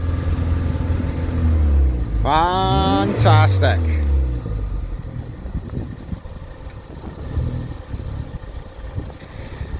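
A rally race car at the Kames sprint race roars close past, its engine note rising and falling sharply over a few seconds before fading into a steady rumble, with people talking over it.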